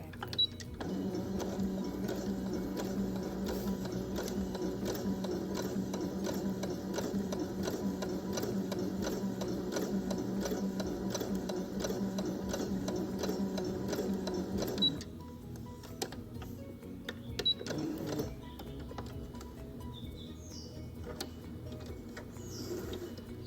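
A sewing machine runs a continuous, rapid rhythmic stitching whir while sewing a stretchy test seam at a 3.5 stitch length, then stops, leaving quieter handling clicks.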